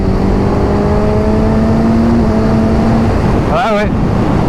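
A 2021 Suzuki GSX-S 1000 motorcycle engine drones steadily up through the gears, rising then climbing sharply near the end in a quick rev, loud and close throughout.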